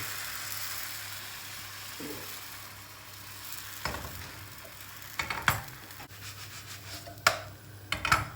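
Spinach crepe batter sizzles steadily in a hot pan, then several sharp scraping clatters mark the crepe being flipped near the end, with no talking.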